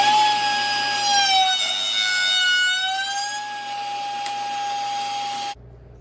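A router table cuts wood for a shaker style door, a steady high-pitched whine with shifting overtones that holds close and loud for over five seconds, then stops abruptly.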